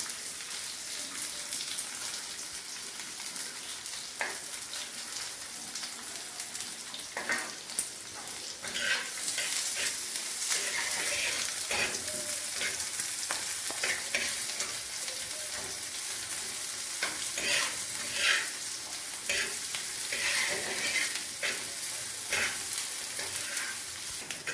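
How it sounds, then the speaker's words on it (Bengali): Onions fry with green chilli in hot oil, giving a steady, bright sizzle throughout, broken by frequent scraping stirs of a spoon through the pan. "পেঁয়াজগুলো হাফ ভাজা হয়ে গেছে, বেশি ভাজবো না"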